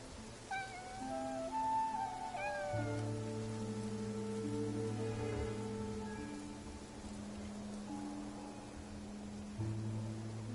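A cat in the video game Infinity Nikki meows several times in quick, rising calls near the start, then sustained tones and faint rain carry on under it.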